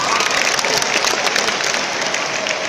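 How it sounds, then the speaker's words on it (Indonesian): A university audience at an Indonesian religious gathering bursts into sustained, dense applause, loud and even from start to finish with a faint crowd murmur beneath. "Tepuk tangan."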